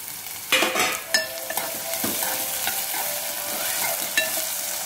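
Tomatoes tip into a hot frying pan for a prawn curry and are stirred, giving a close, steady sizzle with sharp scraping knocks of the spoon against the pan at irregular intervals.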